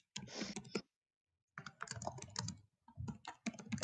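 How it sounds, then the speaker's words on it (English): Rapid clicking keystrokes on a mechanical computer keyboard come in close, busy bursts, broken by a pause of about a second of silence before the typing resumes. "Oh, you got a mechanical keyboard."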